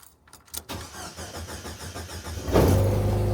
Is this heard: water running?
no